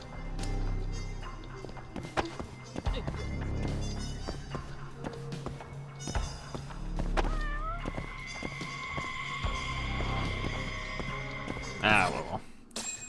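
In the video game Judgment Part II, a cat meows repeatedly amid game sounds and footsteps, with a louder caterwaul near the end.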